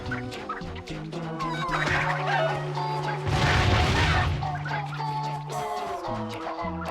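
A chicken clucks in the Crash Twinsanity video game, its squawks rising briefly over steady game music with a louder burst midway.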